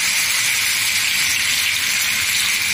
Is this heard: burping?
no